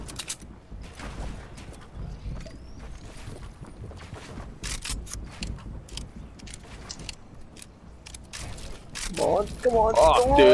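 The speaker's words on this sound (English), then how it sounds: "I had to reload" Shotgun being reloaded in a video game: a run of quick mechanical clicks and ratcheting clacks, close and fairly loud, with voices talking over them and a louder voice near the end.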